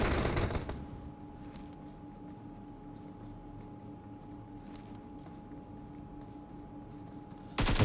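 Gunfire in PUBG Mobile during a tournament grand final: loud bursts of shots open and close the stretch, with a quiet, low rumbling lull between them.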